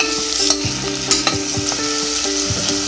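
Onion and ginger stirred and sautéing in hot oil in a pan, a steady sizzle broken by a few scraping spatula strokes, close and alone with no talk.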